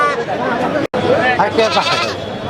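Goats bleat loudly and close by while people talk over them at a busy goat market in Aati Bazar, Keraniganj, Dhaka.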